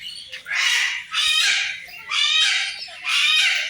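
Four loud, harsh squawks in succession from nearby cockatoos, each a raspy burst about half a second long separated by brief pauses.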